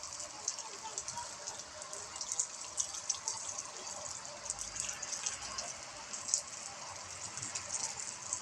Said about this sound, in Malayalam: അര ബക്കറ്റ് വെള്ളം കൊണ്ട് വർക്ക് ചെയ്യുന്ന വാട്ടർ ബൗണ്ടനാണ്